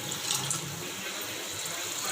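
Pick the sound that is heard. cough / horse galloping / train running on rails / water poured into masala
water poured into masala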